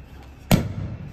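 A single sharp firecracker bang bursts out during Dhanteras, followed by a brief rumbling tail in a quiet outdoor setting.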